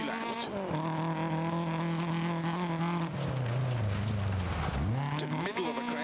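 Rally car engine in DiRT Rally 2.0, driven at night with broken headlights, revs hard and steadily under load, pitch sagging low around a bend before climbing again, with tyre noise and gravel beneath and no talk.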